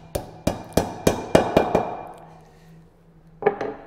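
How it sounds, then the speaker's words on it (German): Seven sharp hammer strikes drive a Tox aerated-concrete wall anchor into a drilled hole, landing in a steady rhythm, close and loud, followed by a pause and two more quick taps. "Dann wird der Dübel in das gebohrte Bohrloch eingeschlagen."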